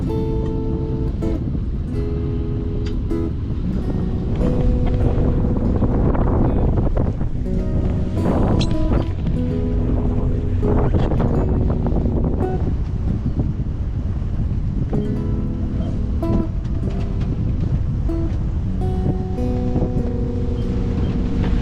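A Sunsail catamaran beats upwind against the current in about 20 knots of wind off French Polynesia. Steady roaring wind buffets the microphone and waves rush past the hull, all under continuous music.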